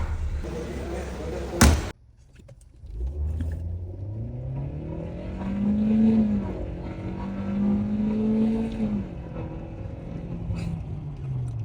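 A Chevrolet Nexia Cobalt on a test drive: a sharp door slam, then the engine starts and accelerates, its rising and falling hum sustained through the run, fairly close.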